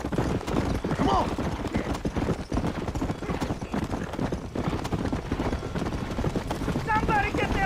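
Horses near a burning barn in the Red Dead Redemption video game: steady, close clip-clop of galloping hooves, with a sharp whinny early on and another near the end, over a dense, busy background with voices mixed in.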